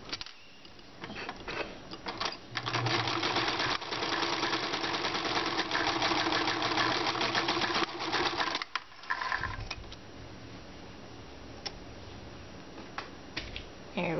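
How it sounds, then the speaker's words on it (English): A sewing machine stitches a raglan shirt seam in rapid continuous bursts, close and clear, pausing briefly before running again in shorter spurts. "sew it down"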